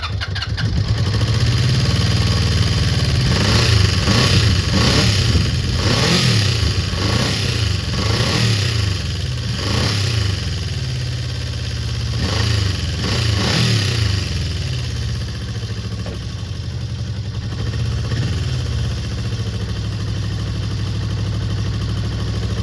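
A classic Honda CB400 Four motorcycle under restoration, running without choke, its four-cylinder engine idling loud and close with repeated throttle blips rising and falling, then settling back to a steady idle.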